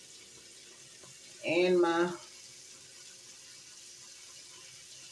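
Tap water runs steadily into a sink during face washing, a soft constant hiss with a voice speaking briefly over it.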